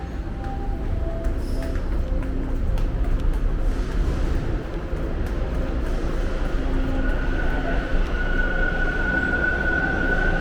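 A subway train at a station platform rumbles loudly and continuously, with grinding wheel noise and a rising high squeal toward the end, and no talking.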